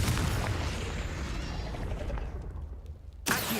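Blasting Confringo spell explosion in the Hogwarts Legacy video game, a loud, dense roaring burst that fills the opening seconds and fades into a brief lull before a sharp new impact at the end.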